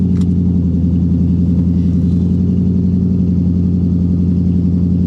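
A supercar engine idles with a loud, steady low rumble throughout while it is put into gear, with no obvious revving.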